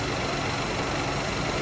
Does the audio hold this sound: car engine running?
yes